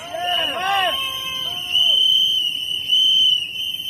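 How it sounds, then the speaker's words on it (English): Protesters blow whistles at a Juneteenth rally in the nation's capital, a shrill sustained tone swelling in repeated bursts over crowd babble and a voice speaking. "That's right, blow those whistles."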